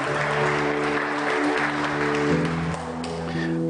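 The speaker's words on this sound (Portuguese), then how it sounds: "pode aplaudir o Senhor?" Church congregation applauding during a worship service, steady clapping over a sustained musical backing, moderately loud and continuous throughout.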